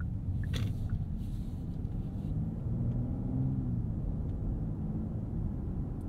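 Steady low road rumble inside the cabin of a 2023 Genesis G90 rolling on 21-inch wheels with low-profile tires over a rough road surface, a subdued, even drone with no talking.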